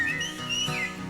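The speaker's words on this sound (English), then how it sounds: "when I hit my thumb a lot, I whistle this little song" A person whistles a little song, a brief bright melodic phrase with a few sliding notes, close and clear with no talking.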